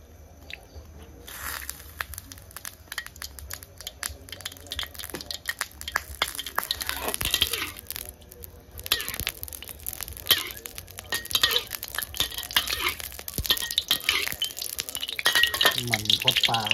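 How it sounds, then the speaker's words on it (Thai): Squid stir-fried in oil with dry chili and pounded garlic in a pan: a steady sizzle that grows louder, broken by sharp clinks and scrapes of a utensil against the pan. "มาผัดกันครับพี่น้อง"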